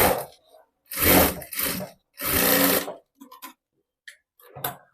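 Sewing machine stitching a strip onto a long designer blouse: three loud, close bursts of rapid needle clatter of about half a second to a second each, separated by pauses and followed by light clicks and handling taps.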